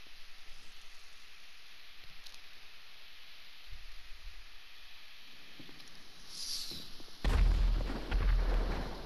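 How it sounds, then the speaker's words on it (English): An explosion in GTA V Online: quiet, hissy game ambience with faint distant thumps, then a sudden loud booming blast that rumbles on to the end, with no talk. "I just heard a giant ass explosion"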